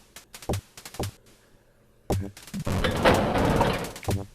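Gunfire from the video game Wolfenstein 3D: a few sharp separated shots, then a dense burst of rapid-fire shooting and clattering, loud and up front.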